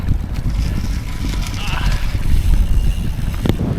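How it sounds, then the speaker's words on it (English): Steady wind roar buffets the microphone while riding a Trek Emonda ALR road bike along a dry, rough tractor path, a continuous low rumble throughout with a brief louder gust near the end, under a voice. "The wind."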